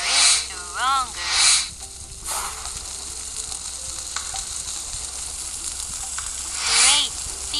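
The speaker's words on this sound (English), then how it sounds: "Let's start grilling the skewer. The fire is stronger." A skewer sizzles on a hot grill in a kitchen cooking game, a steady frying hiss with bursts of brighter crackle and whooshes, close and fairly loud.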